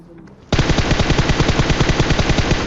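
Automatic gunfire in the mobile battle-royale game PUBG Mobile breaks in suddenly after a brief quiet moment, then keeps up a loud, rapid, evenly spaced stream of shots to the end.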